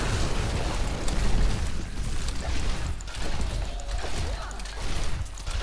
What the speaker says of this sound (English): It uses the Corpse Explosion in close combat.